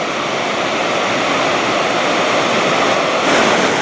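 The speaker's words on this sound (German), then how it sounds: "Zur linken Seite dieses Twinfossen kommt das Wasser hier so über diese Stufen runter." Tvindefossen waterfall in Voss, Norway, sends water cascading down stepped rock in a loud, steady rushing roar that never lets up.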